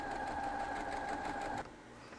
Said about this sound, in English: So I'm going to sew that real quick.